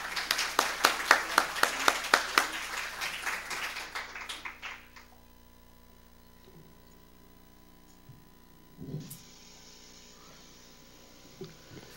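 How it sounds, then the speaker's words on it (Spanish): An audience at a conference bids farewell to two presenters with a burst of steady applause that fades out after a few seconds, leaving a quiet room with a few soft noises. "Despedimos con un aplauso a Mariana Colín y Marcela Cano."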